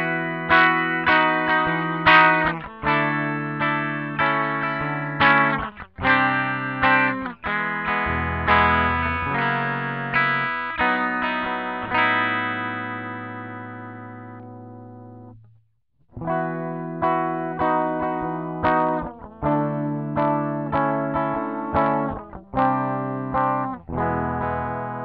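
Electric guitar fitted with a Veyz double-driver sustainer, played on a clean tone: strummed chords ring out, then long notes hold and swell with sustained decay, a brief pause, and strumming resumes, loud and close without talk.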